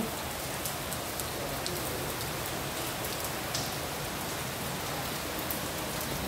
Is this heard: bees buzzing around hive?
no